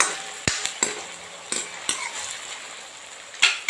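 A spoon stirs peas into frying pav bhaji vegetables in a pan, with several sharp metallic scrapes and clinks over a soft sizzle, close and irregular.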